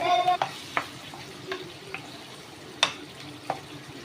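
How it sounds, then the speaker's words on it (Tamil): Chicken cooks with a little added water in a pan: soft sizzling with scattered clinks and scrapes of stirring, a steady low bubbling underneath. "இதில் கால் டம்ளர் மட்டும் தண்ணி ஆட் பண்ணிக்கோங்க சிக்கன் வேகிறதுக்கு"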